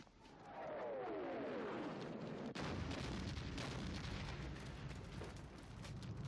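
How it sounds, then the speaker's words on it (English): A big film explosion fills the scene with a loud, sustained roar and rumble, a sharp crack around the midpoint, then a long debris-laden tail; a descending whistle precedes the blast. "Very nice explosion there."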